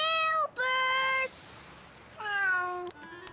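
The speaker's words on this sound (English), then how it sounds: "It was Sarah's cat, Ollie" Ollie, a pet cat in a children's cartoon, lets out several loud, drawn-out meows close by, separated by short pauses, with no one talking.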